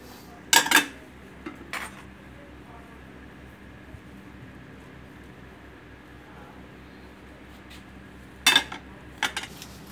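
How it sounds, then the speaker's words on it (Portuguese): Dishes and cutlery handled during hand washing in a home kitchen, with a few sharp clinking bursts near the start and again near the end over a low steady background. "Ela tá lavando a louça"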